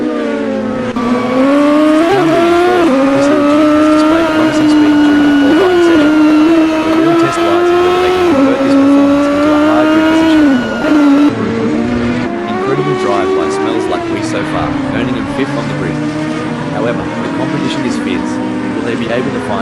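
A Mercedes 2003 CLK DTM race car at Lausitzring, its engine loud and close, rising and falling through gear changes, with a commentator talking over it.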